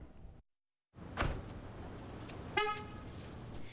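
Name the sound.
car horn chirp when locking the car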